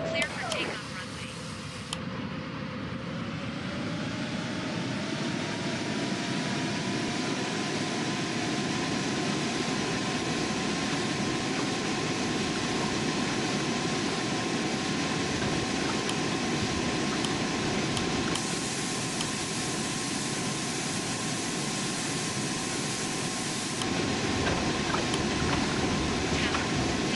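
Jet engines of a FedEx MD-11F freighter (N588FE) on its takeoff roll, heard from the cockpit as a loud, steady roar that swells after a brief spool-up and holds throughout, with voices talking over it.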